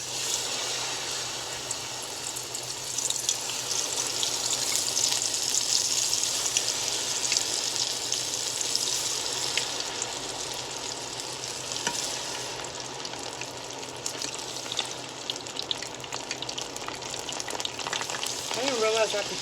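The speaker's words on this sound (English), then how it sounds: "Let's go put some stuff in the fryer." Mushrooms fry in a pan of hot oil with a steady, close sizzling hiss and light bubbling that runs continuously for the whole stretch.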